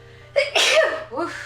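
A single sharp sneeze bursts out close and loud, followed by a short voiced exclamation, during a casual conversation between people.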